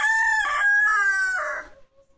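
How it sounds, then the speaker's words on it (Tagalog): A rooster crows loudly and close by among backyard chickens in Binangonan, Rizal, one drawn-out cock-a-doodle-doo call that ends abruptly into quiet. "Yan mga manok."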